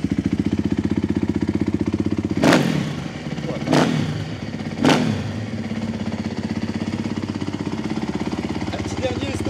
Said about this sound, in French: Petit soundcheck du FMF full custom.